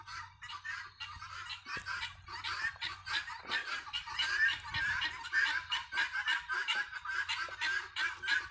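Guinea fowl on a farm calling in a rapid, continuous chattering cackle of harsh, rhythmic cries, fairly close and steady.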